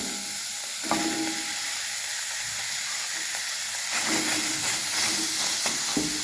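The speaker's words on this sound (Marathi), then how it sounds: "आपण त्याच्यामध्ये आपण चिरलेले टोमॅटो टाकून घेऊया" Chopped tomatoes fry in a hot kadhai on a gas stove, giving a steady, loud hiss and sizzle with a few sharper crackles and stirring scrapes. No one speaks.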